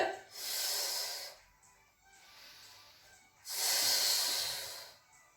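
Two long, breathy exhalations during an abdominal workout, each a loud rushing hiss lasting over a second, with quieter breathing in between; no talking.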